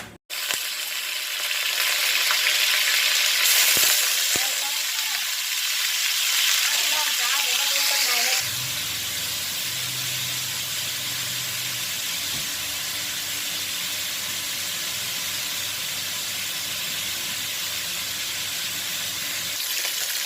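Vegetable oil sizzles in a pan for a pork and chili bean stir-fry, a steady hissing fry that carries on throughout, loudest in the first part and then settling into a softer continuous sizzle.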